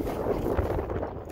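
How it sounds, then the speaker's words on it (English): Gusty wind buffets the microphone outdoors on a cattle farm, a steady low rumbling roar filling the whole moment with no voice. "pardon the wind, it's a bit windy"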